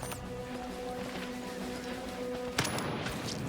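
Gunfire in the video game Jagged Alliance 3, a dense burst of rapid shots over a steady humming background, ending in a sharp louder crack near the end, no talking.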